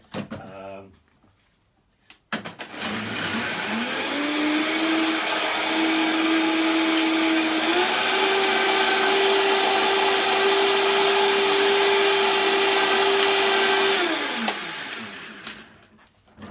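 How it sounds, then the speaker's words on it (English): A high-speed blender roars loudly and steadily for about ten seconds, its motor pitch stepping up partway through, then winds down to a stop. "So about 10 seconds, 15 seconds with a high-speed blender."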